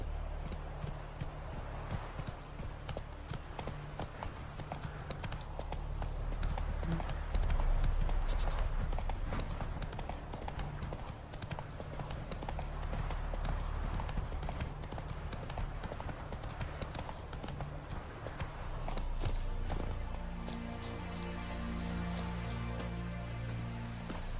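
A horse clip-clops along at a steady trotting rhythm in The Witcher 3, the hoofbeats continuous and fairly close for the whole stretch, with faint ambient rain and game sound beneath.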